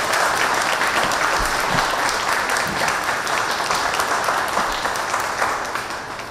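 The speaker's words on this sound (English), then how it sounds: "And I will solicit a round of applause when I just announced that." A large audience applauds continuously at a mayor's public safety announcement, producing a dense, loud, steady wash of clapping that tapers off slightly toward the end.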